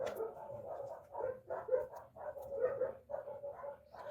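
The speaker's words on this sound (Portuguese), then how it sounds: "se eu vou esperar os cachorros parar de latir" Dogs bark repeatedly in a steady rhythm of short, muffled woofs, somewhat distant and moderately quiet, with no talking.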